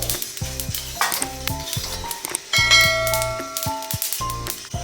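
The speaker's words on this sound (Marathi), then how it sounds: "असा तडतडल्याचा आवाज यायला पाहिजे आणि असे छान उडले पाहिजेत तीळ, खमंग भाजून घ्यायचे" Sesame seeds dry roasting in a pan crackle and pop with a busy sizzling patter, close and steady, laid over tonal background music.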